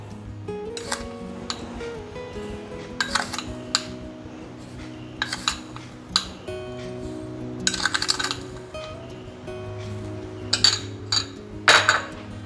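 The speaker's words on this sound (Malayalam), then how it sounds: "ഇത് നമുക്ക് നന്നായിട്ട് ഒന്നുകൂടി ഒന്ന് ഉടച്ചെടുക്കാം ഇങ്ങനെ ഉടയ്ക്കുന്ന സമയത്ത് നമുക്ക് ഇതിലേക്ക് മധുരത്തിന് ആവശ്യമായ പഞ്ചസാര കൂടി ചേർത്ത് കൊടുക്കാം" Banana and sugar are mashed with a coconut-shell ladle in a bowl, giving irregular knocks and clinks against the vessel with soft squishing between, close by and without talk.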